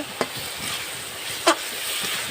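Potatoes and onions sizzle and fry in a pan for a silver carp curry while a spoon stirs them, with two sharp scraping clinks against the pan over a steady hiss.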